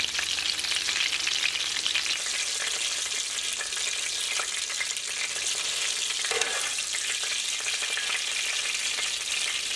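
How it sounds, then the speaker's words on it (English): Panko-coated speckled trout frying in hot oil, a steady dense sizzle and crackle heard close up and continuing without pause, with no talking. "I love to fry speckled trout. We're gonna do it in panko"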